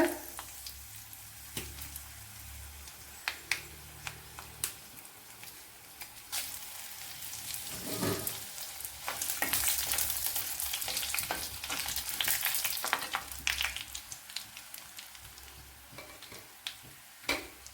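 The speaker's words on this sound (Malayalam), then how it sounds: "ഇതിലേക്ക് വറ്റൽമുളക് ഇട്ട് കൊടുക്കുക" Dried red chillies frying in hot oil for a cauliflower masala curry give a close crackling sizzle, broken by repeated stirring scrapes and taps that swell into a louder burst midway.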